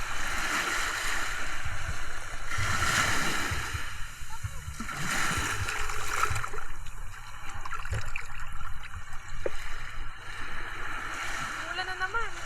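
Waves break and splash around riders on Kawasaki Dominar 400 motorcycles at a beach, a steady washing surge with bursts of spray, mixed with excited shouting and talk.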